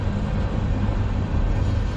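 CN 301, a westbound manifest freight train led by CN locomotives 8017 and 8937 in Sarnia, passes close by as a loud, steady, heavy rumble and roar with no break.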